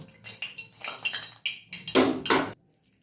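A spoon clatters and scrapes around a bowl while shredded cabbage pakora batter is worked together with a little added oil, in loud close-up bursts that end abruptly.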